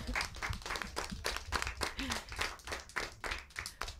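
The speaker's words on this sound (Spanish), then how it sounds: "os podéis dar un aplauso si queréis." Schoolchildren at a bilingual school event clapping, a fairly quiet, uneven patter of hands with distinct bursts and gaps, fairly close, with faint voices mixed in.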